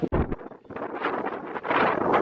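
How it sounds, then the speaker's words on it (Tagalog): Strong wind near the sea buffets the microphone in steady, loud rumbling gusts that swell and ease outdoors at a beach park, with no voices. "Kasi mahangin pag malapit sa dagat."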